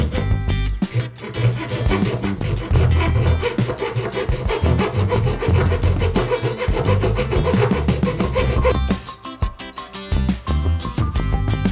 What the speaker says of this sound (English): With a hacksaw blade, carefully cut out the marked circle on the can.